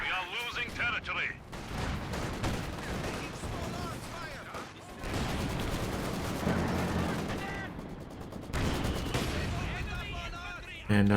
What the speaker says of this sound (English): We've got double mortars from Luvnest.